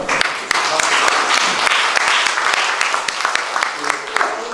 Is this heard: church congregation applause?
yes